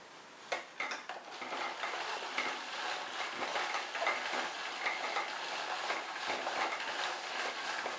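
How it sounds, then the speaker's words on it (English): Handle turned on a pressurised pond filter (All Pond Solutions PFC-5000), rotating foam sponges for rinsing, making a continuous churning, sloshing water rush with faint plastic clicks, steady and close, no voices. "Turning the handle causes the sponges to rotate, effectively rinsing each foam."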